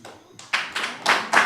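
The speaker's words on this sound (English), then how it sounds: "But you all just clapping" Several separate bursts of hand clapping from a gathered audience at an outdoor community event, short uneven rounds rising and falling, moderately close with no one talking.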